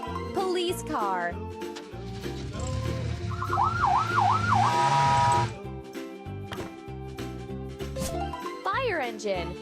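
A cartoon police car siren from a children's transport repair animation wails in a quick rising-and-falling wobble for a couple of seconds, set against playful background music.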